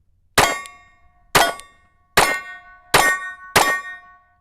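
Five sharp, evenly spaced shots from a Glock 43 Micro Dagger pistol, each a loud crack followed by a ringing, metallic decay, with no talking between them.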